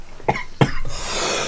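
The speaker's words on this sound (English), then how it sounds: "Oh, I'm having a coughing fit over it." A person coughs twice in quick succession, sharp and close, followed by a soft breathy hiss.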